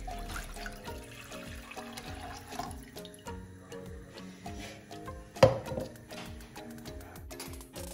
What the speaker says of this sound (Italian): versiamo la nostra acqua